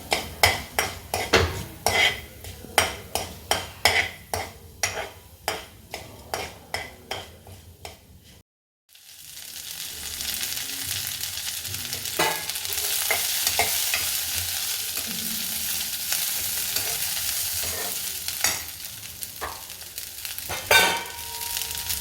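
Mustard seeds frying in hot oil in a pan for a cluster bean stir-fry: a close run of sharp pops and crackles, then a short silence and a steady, loud sizzle with scattered clicks.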